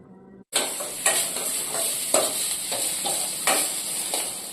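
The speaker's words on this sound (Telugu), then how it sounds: "ఇలా తాలింపు పెట్టేసి దాంట్లో యాడ్ చేయడం అయితే తెలిసిందే కదా" Tempering spices hit hot oil and are added to rice in a cooker, setting off a loud, steady sizzle with a few stirring clatters over it, close and alone after a brief quiet start.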